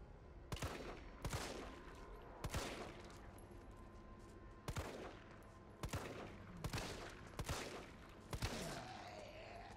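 Gunfire from weapons in the video game Resident Evil 3: about eight sharp, loud shots spaced irregularly, each ringing out with a short decaying echo over a low ambient hum.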